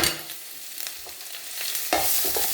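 Crushed ginger and garlic are added to hot oil with popped mustard seeds while making an anchovy pickle, giving a bright sizzle with scraping stirs and a louder burst of frying near the end.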